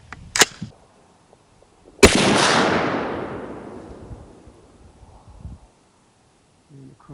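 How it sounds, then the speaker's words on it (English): A single sharp 6.8 Creedmoor rifle shot fired to fire-form a case, loud and close, with a long rolling echo that decays over several seconds outdoors; a faint click comes just before it. "First shot is the needed to be fire-formed case."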